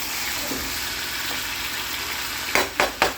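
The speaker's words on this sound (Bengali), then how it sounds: "চিকেনটাকে বেশ এই মশলার সাথে ভালো করে ভাজা করতে হবে" Chicken fries in masala over a medium flame, a steady close sizzle running throughout, with three sharp clanks of a utensil against the pan near the end.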